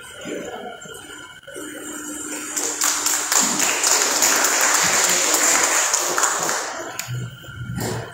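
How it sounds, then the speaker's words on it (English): Audience applause at a town hall meeting in Wai'anae, a broad wash of clapping that swells in after a quieter stretch and holds steadily loud, thinning toward the end. "I'd like you all to applaud all of our people who came up with their manawa and their questions"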